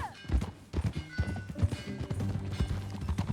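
Horse hooves galloping in the Red Dead Redemption 2 video game: a fast, uneven run of hard clip-clop thuds, close and fairly loud, over an ambient game background.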